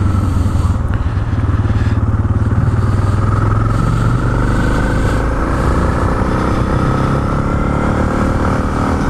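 A Suzuki DR motorcycle rides along rural back roads, its engine droning loud and steady close to the mic with a slight rise in pitch, mixed with wind rush and no talking.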